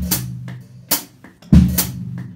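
A drum set's feet alone in an Afro-Caribbean groove: bass drum thumps with hi-hat chicks on half notes, a few sparse, close hits with no voices.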